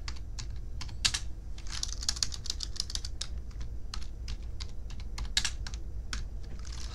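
Someone types quickly on a computer keyboard, fast clusters of crisp key clicks rattling close up over a low background hum, with no voices.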